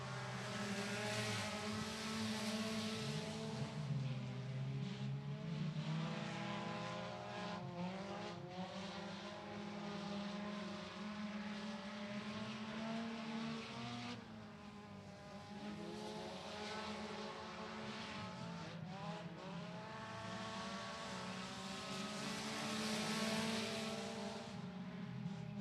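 Race cars run hot lap qualifying at Golden Mountain Speedway, their engines roaring steadily and loud with rising and falling pitch as cars pass through the turns. No voices are heard.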